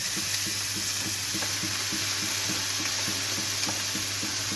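Ginger garlic paste, cumin and cinnamon sautéing in a pan, a steady loud sizzle of frying with faint stirring scrapes repeating throughout, no talking.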